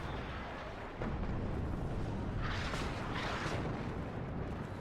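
Artillery strikes in the real-time strategy game Warno, a 4v4 match on the Stoneware map, land as a low rumbling roar that swells at one second and holds with dull booms and crackling bursts, distant and continuous.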